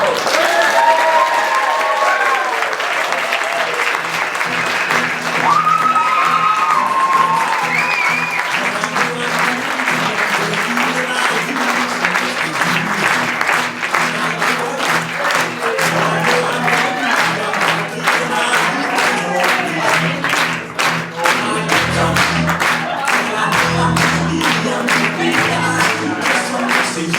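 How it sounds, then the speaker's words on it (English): Wedding guests give the newly announced bride and groom a big sustained round of applause, dense crowd clapping with some cheers and whoops, while a voice speaks over it and music plays beneath. "Big round of applause."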